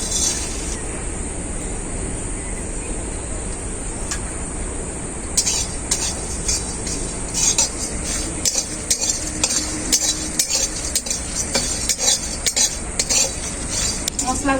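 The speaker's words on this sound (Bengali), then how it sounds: "একসাথে শুকনো কড়াই এগুলো ভেজে নেব" Whole spices such as dried chillies, cinnamon, cardamom, coriander, cumin, fenugreek, cloves, mace and nutmeg dry-roasted in an empty wok, with a low sizzling hiss under repeated clinks and scrapes of a stirring spoon.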